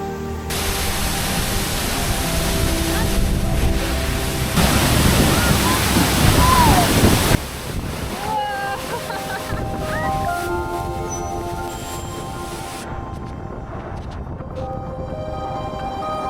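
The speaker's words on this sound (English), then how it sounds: "We've arrived at the waterfall!" Steady, loud rushing water from a waterfall on Lombok, Indonesia roars throughout, a dense wash of noise, with a few faint bird chirps in the latter half.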